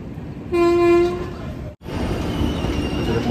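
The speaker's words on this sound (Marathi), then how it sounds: "समोर एक गेली आहे train Chennai to new Delhi" Chennai to New Delhi train passing, with a sustained horn blast near the start followed by loud rumbling wheels and rushing noise as the cars go by close up.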